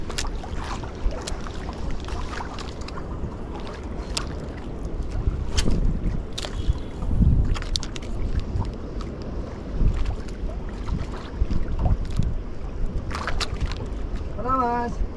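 Wind gusts buffet a small boat on open water, producing a continuous rumbling roar with surges, along with occasional knocks and clicks, while people talk intermittently nearby.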